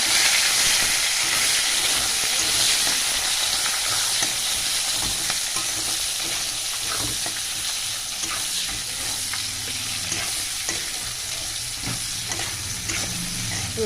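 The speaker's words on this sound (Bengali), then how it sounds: "পেঁয়াজ দিয়ে দিচ্ছি। পেঁয়াজটা লাল করে ভেজে নিতে হবে।" Onions and bay leaves fry in hot oil in a pan, a steady close sizzle with bursts of crackle and occasional stirring scrapes running unbroken throughout.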